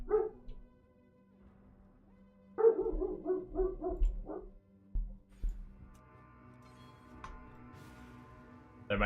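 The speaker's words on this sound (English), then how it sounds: "What is he barking at?" A dog indoors gives a short run of sharp barks, then a louder burst of several rapid barks, followed by quieter whines and yips; the barking is moderately near.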